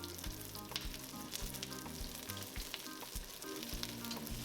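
Shrimp fry in smoking-hot extra light olive oil in a wok, giving a steady close sizzle with crackling pops, under faint background music.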